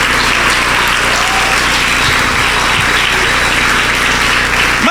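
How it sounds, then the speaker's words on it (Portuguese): A church congress crowd breaks into loud, sustained applause, a thick roar of clapping hands over a low steady hum, holding at full strength throughout. "Então aplaude"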